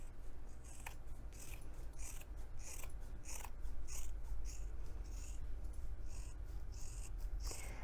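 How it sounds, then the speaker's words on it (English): Sharp scissors trim a fabric seam on a messenger bag, producing a rapid series of crisp, close snips in an irregular rhythm, with no talking. "go ahead and trim this seam in half"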